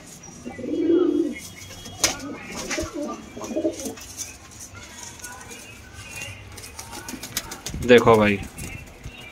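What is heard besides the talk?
Punjabi pigeons cooing and flapping wings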